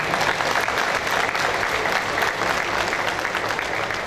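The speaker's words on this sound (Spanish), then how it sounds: "Un aplauso, por favor." Dense, sustained applause from an audience at an agricultural show presentation in Paraguay, a thick continuous roar of many hands clapping at an even, fairly loud level throughout.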